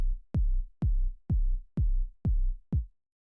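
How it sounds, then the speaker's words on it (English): A four-on-the-floor kick drum built from an audio click, seven evenly spaced, punchy low thumps with sharp attacks, played alone and ending in silence. "is just a basic 4 on the floor kick drum that sounds like this"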